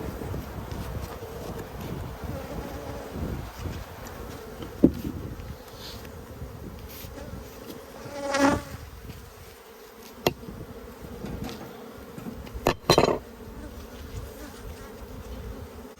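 Honey bees hum steadily from an opened beehive, a dense close buzz with a few louder passes of individual bees drifting near and away, alone without any talking.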